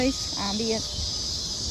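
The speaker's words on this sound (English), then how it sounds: "As we listen to the cicadas." A continuous high-pitched insect drone, like cicadas, fills the background while a voice speaks briefly near the start.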